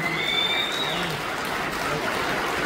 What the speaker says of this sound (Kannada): ಒಂದು ದೊಡ್ಡ ಚಪ್ಪಾಳೆ ಕೊಡಿ ಪ್ಲೀಸ್.